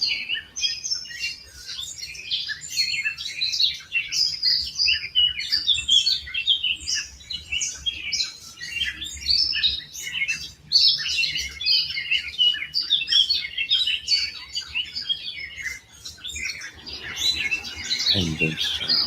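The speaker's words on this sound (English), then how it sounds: "I'll leave you with some silence and the birds." Many birds chirp and tweet continuously at a moderate distance, a busy layered chorus with no other sounds intruding.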